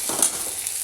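Chopped tomato with salt, turmeric and tadka masala frying in a pan, giving a steady close sizzle with light stirring scrapes and no voices.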